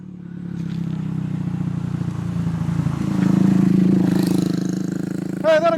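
A motorcycle engine rumbles loudly and revs up, its illegal aftermarket exhaust growling steadily over several seconds.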